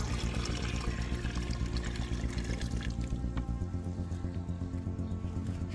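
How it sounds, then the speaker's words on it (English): Around ten liters of rainwater pours into a bucket in a steady, continuous splash, fairly quiet and even throughout. "Then we add about 10 liters of rainwater or clean water that doesn't have chlorine in it"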